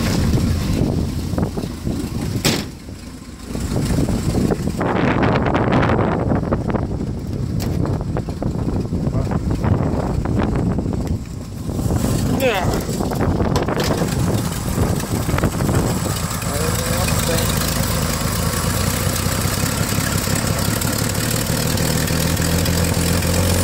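Chevrolet Stovebolt engine with a Rochester Monojet carburetor idling on its own after a cold start, a steady low rumble close by, buffeted by wind noise and handling bumps in the first half before settling into an even idle.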